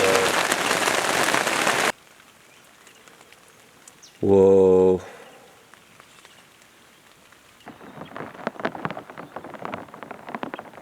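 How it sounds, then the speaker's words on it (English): Heavy rain pours and patters outdoors in Salta, Argentina, first a loud dense downpour, then quieter scattered drops building again, with a brief exclamation and a sharp electronic tone midway. "But now it's just pouring. It's just pouring hard."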